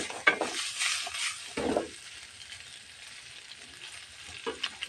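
Ham sizzles and fries in a pan for carbonara, a steady close hiss with bursts of stirring and clinks of a utensil against the pan.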